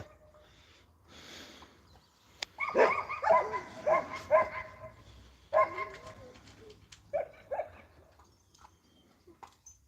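Dogs bark and yip in quick, uneven bursts, close by, with a few whimpering high notes mixed in and brief pauses between flurries.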